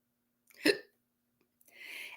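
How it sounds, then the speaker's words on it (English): A single sharp human hiccup, close and clear against near silence, followed a moment later by a soft breathy exhale. "Now I've got the hiccups."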